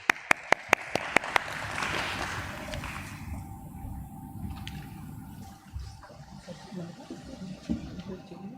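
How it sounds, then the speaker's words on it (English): Audience applause at a stock exchange listing ceremony, a broad wash of clapping from a crowd in a hall, opening with several sharp clicks and then fading into quieter room noise. "Can we welcome him with a huge round of applause"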